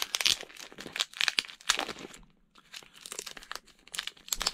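Masking tape torn off a comic book package, a run of crinkly ripping and crackling pulls in uneven bursts, close and fairly loud, with a short pause midway.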